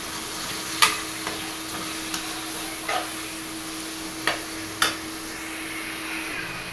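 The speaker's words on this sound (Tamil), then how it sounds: "இந்த தக்காளியை இப்போ இதில் ஆட் பண்ணிக்கலாம். ஆட் பண்ணிட்டு நல்லா மிக்ஸ் பண்ணிக்கணும்." A spoon scrapes and clacks now and then against a pan while tomatoes sizzle steadily underneath; no voices.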